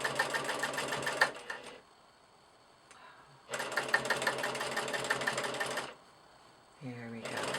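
A sewing machine stitches rick rack trim along a fabric edge with rapid, steady mechanical chattering in two long bursts, broken by quiet pauses; a voice speaks briefly near the end.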